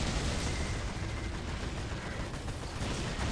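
Dense gunfire and explosions from the Warhammer strategy video game Dawn of War, a continuous loud battle din of rapid shots without a pause.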